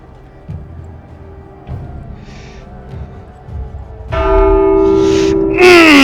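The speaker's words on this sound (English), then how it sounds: "The fuck rang the bell?" A church bell rings in The Walking Dead Saints & Sinners VR game: after a quiet stretch with faint stirring, two loud, resonant strikes sound close together, each ringing on.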